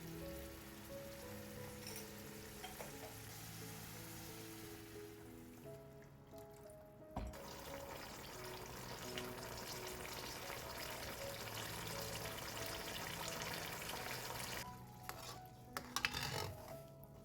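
Water poured into a simmering homemade iskender sauce seasoned with salt and black pepper, a close steady splashing and bubbling sizzle with faint clinks of a pot, with no talking.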